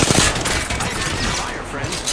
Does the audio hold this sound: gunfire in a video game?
yes